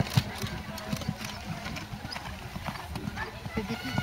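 Horse hooves clip-clopping at a steady trot at a show jumping event, fairly close, with scattered background noise.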